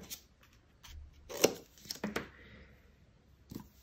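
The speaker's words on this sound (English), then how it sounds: "So just go ahead and cut them in half." Scissors cutting patterned craft paper in half, giving a few quiet, close snips and rustles separated by short pauses, with soft paper handling noise in between.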